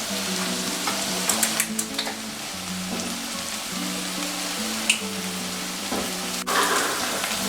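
Cajun dirty rice with brown rice sizzles in a pan over medium-high heat, a steady close crackle with a few sharper pops and scrapes, no voices over it.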